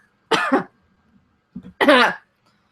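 Two loud, close coughs with a pause between them, nothing else around.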